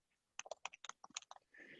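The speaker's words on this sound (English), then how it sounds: "I'll type it in here." A burst of about a dozen quick keystrokes on a computer keyboard, crisp and close, followed by a brief soft rustle.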